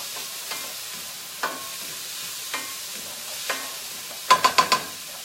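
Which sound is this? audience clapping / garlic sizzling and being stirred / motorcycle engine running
garlic sizzling and being stirred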